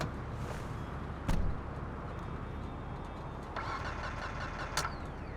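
A car engine in GTA V cranks without catching, with a sharp click or thump early on and a later burst of whirring starter noise over a steady background hum.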